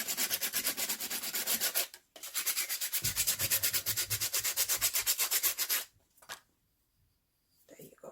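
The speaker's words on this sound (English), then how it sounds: "So I'm just going to sand it a little bit." Sandpaper rubbing over the rough surface of an upcycled lid being turned into a farmhouse tiered tray. Close, rapid back-and-forth scratchy strokes run steadily, break briefly, then resume before stopping, and a few soft knocks follow.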